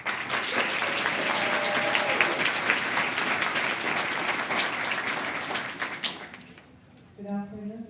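An audience at a university School of Education graduation claps to welcome a speaker to the podium, dense sustained applause that fades out before a voice speaks at the end.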